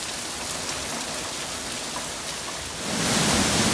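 Rain falls steadily in a dense, even hiss with scattered drop patter, growing slightly heavier toward the end, with no voices.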